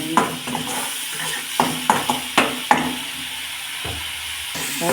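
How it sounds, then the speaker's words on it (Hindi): Spices frying in a pan for a small potato and flour snack, an ongoing sizzle broken by several sharp stirring scrapes and knocks of a utensil against the pan, no talking. "बहुत जल्दी मसाला भून जाएगा हमारा"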